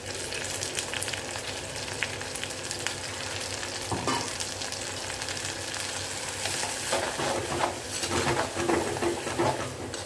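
Small sambar onions and ground tomato sauté in a pan for a spicy kuzhambu. A continuous crackling sizzle runs under frequent stirring scrapes and light clinks of utensil against pan, growing busier toward the end.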